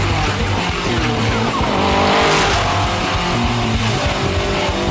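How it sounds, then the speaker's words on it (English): A Prodrive P2's engine roars and revs hard in a racing game, with tire squeal and rushing road noise, close and continuous throughout. "It doesn't just sound like a rally car either."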